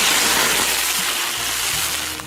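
Water poured into a hot wok of caramelized sugar bursts into a loud, sustained hissing sizzle that slowly eases off, close up and with no talk.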